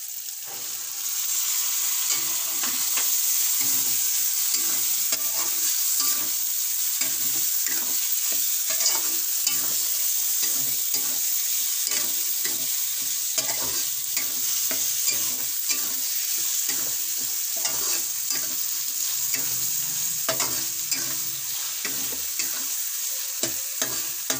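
Peas go into a tomato masala in a pan, where a constant bright sizzle runs under repeated scraping and stirring strokes that keep a loose rhythm throughout, with no voices.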